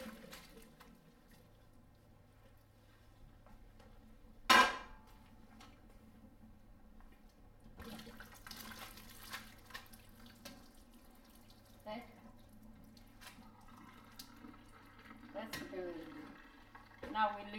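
Water from a cooking pot of beans for pasta e fagioli is poured off into a home kitchen sink, a splashing, gurgling pour that swells partway through and runs on with low kitchen noise.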